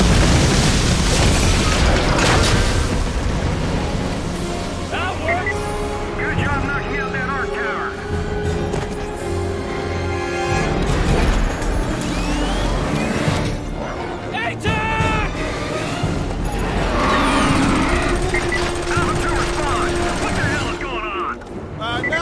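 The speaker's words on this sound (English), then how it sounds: "pushing this button to expose its power cells and then just shooting it a whole bunch" Sustained gunfire and booming impacts from a Killzone shooter as a tower's exposed power cells are shot repeatedly, dense and loud throughout with explosions and speech mixed over a constant game soundtrack.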